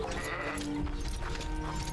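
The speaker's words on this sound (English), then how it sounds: "Oh, are you coming with me, Mr. Sheep?" Sheep bleating in the fantasy role-playing game Arcania: Fall of Setarrif, a few close, wavering bleats over a steady backdrop of game ambience and music, with no voices.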